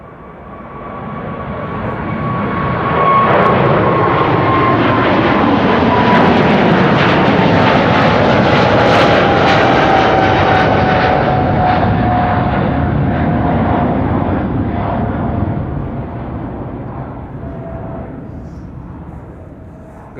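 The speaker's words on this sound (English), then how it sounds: "Dash 8 is in the air." A De Havilland Dash 8-100 turboprop takes off from Schiphol, its loud engine roar swelling in, peaking with a falling propeller tone as it passes, then slowly fading away.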